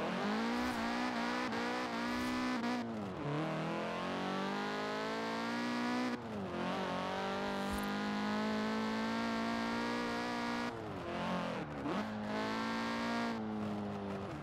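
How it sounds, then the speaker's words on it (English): A 2015 Honda Civic Type R engine in Forza drones at high revs, rising through gears with brief drops at shifts, steady and loud, with a synthetic game-like tone. "let's start by listening to the engine sound."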